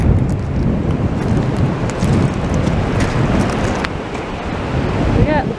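Strong wind buffets the microphone on a beach promenade in Blackpool while surf roars steadily underneath, a loud continuous rush with no speech.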